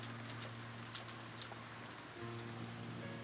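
Wind and rain ambience from the visual novel Umineko When They Cry, a steady wash of rainfall with a low constant hum beneath, continuous and even with faint bird-like chirps, no speech.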